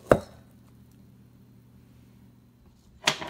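Vegetables are chopped in a food chopper, heard as two sharp, close chopping impacts about three seconds apart with quiet in between.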